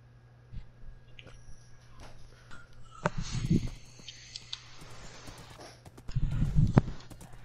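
Hoof clops from a walking horse in Minecraft come in two uneven clusters over a quiet background with faint clicks, moderately close.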